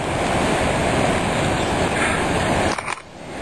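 The Niagara River rushes upstream of the falls as a loud, continuous roar of fast water, heard close up with some wind buffeting. The sound dips slightly near the end.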